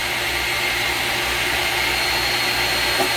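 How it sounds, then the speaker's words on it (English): An EcoVac coolant vacuum runs both of its pumps at once, giving a steady, loud, whining motor drone that stays even throughout and has no talk over it. "what's neat about this EcoVac is I can actually run both pumps at the same time"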